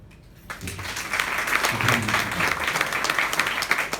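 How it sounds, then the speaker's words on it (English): An audience applauds the Umhlanga Women's Association at an anti-GBV campaign event, a quiet moment breaking into sustained, moderately loud clapping from a sizeable group that carries on steadily. "we need to give a big round of applause to Umhlanga Women's Association"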